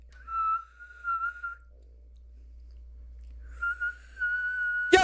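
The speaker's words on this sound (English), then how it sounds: "just whistle a couple times for me" A person whistles a pair of short clear notes, goes quiet for a couple of seconds, then whistles another longer run of notes. Each whistle stands alone over a low background hum.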